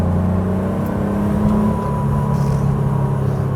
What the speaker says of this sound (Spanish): Un sonido auténticamente boxer, pero boxer de la vieja escuela